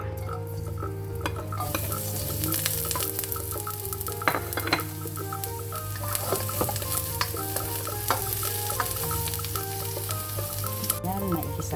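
Sponge gourd (patola) being sautéed in a pan, a loud steady sizzle with frequent scraping stirs and clinks of a utensil against the pan, close up and with no talking.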